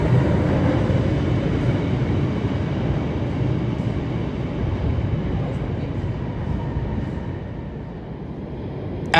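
A Chicago Red Line train rolls into the station, producing a loud, steady low rumble of wheels and cars that eases slightly as it slows, with no voices.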